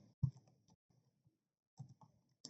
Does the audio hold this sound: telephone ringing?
no